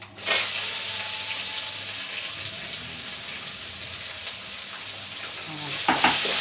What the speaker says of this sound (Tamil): நல்லா பொன்னிறமாக வதங்கி ஆனியன் வதங்கிடுச்சு.